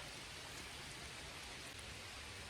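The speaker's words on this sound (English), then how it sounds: "I'm here at the lake in the rain" Steady rain falls at a lake, a quiet, even hiss of drops that stays constant, with no voices or other sounds.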